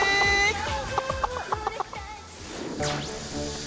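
A chicken clucks in a quick series of short, close calls, layered over other tonal sounds and a sweeping whistle-like effect near the end.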